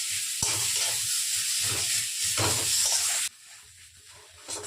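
Ground spices with turmeric sizzling in hot oil in a pan while being stirred for samosa filling, a steady loud fry with scraping strokes throughout, one sharp knock near the start, then the sizzle drops to a quieter hiss.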